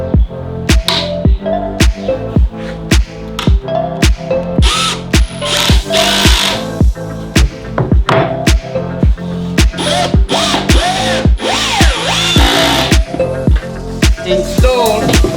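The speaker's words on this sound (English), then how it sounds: "We're going to glue and drill that onto this piece here." A power drill, with a Kreg 720 pocket-hole jig in use, drives into timber for an internal drawer of a 4WD drawer system, with a steady run of sharp clicks and knocks and whirring bursts up close.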